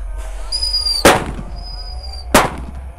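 Size 1.9 roman candle fireworks set off for Lebaran 2024 fire two sharp, loud bangs about a second apart, with thin whistling tones trailing between the shots.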